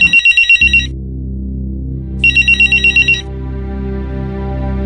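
A telephone rings in two pulsed bursts of rapid electronic trills, separated by a gap, over a low steady background tone.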